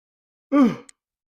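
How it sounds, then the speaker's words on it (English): A single short vocal yawn, a falling drawn-out groan close to the listener, ending abruptly in silence. "I'm so sorry for all the yawns, guys."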